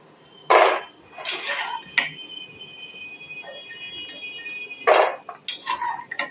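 Metal utensils scraping and clinking against a pan while lifting fried small khurma sweets out, several distinct clanks and scrapes with a faint ringing tone between, close and clear with no talk.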